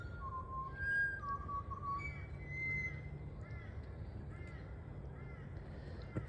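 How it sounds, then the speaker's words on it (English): Wild birds sing outdoors in clear, bright whistled phrases, several repeated notes and short trills standing out over a steady low background rumble, with no talk. "For such vicious birds, they have the most beautiful, beautiful song."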